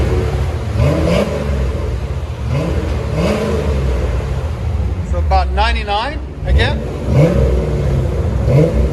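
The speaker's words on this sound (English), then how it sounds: "So we got a 1990 Chevy Corvette. This is what it sounds stock." A stock 1990 Chevy Corvette C4 5.7L V8 revs repeatedly in loud, rhythmic blips over a steady idle rumble, close by, while someone speaks briefly in the middle.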